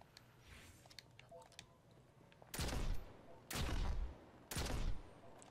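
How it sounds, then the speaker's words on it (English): Three loud hand cannon shots from Destiny's black armor raid-style weapons, spaced about a second apart, each a sharp full-band blast with a short tail, after quieter game ambience. "Ooh, this hand cannon sounds cool."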